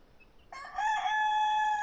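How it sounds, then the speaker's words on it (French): A rooster crows once in a farmyard among hens, quail and free-roaming rabbits, the call starting abruptly and holding a long, loud, clear note close by with no talking. "Les cailles sont là aussi, les coqs."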